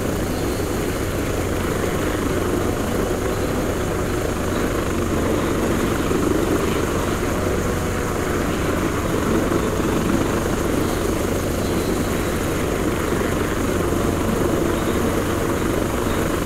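Helicopter in the Arma 3 combat game, a steady rotor and engine drone holding at constant loudness throughout, close and continuous with no talk over it.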